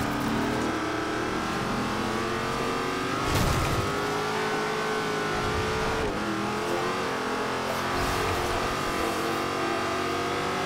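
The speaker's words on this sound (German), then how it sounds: "er zieht da vorbei mit seinem Pagani" A Pagani supercar in the racing game Forza Horizon 2 roars past, its engine revving and shifting in a loud sustained drone with a surge as it passes, heard alone without talk.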